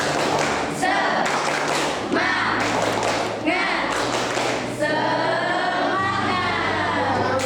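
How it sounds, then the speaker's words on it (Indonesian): Classroom of students doing the rhythmic tepuk semangat clap, bursts of group clapping in a set pattern alternating with loud chanted voices, close and lively throughout. "yuk kita tunjukkan semangat kita. Tepuk semangat."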